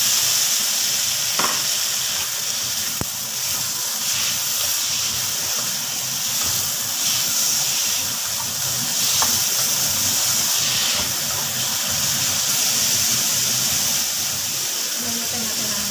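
Tomatoes are added to a hot pan with onions for pork sinigang, and a steady frying sizzle with faint stirring runs throughout at a constant level.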